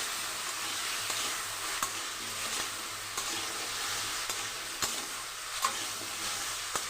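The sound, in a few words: potatoes frying and being stirred in a pan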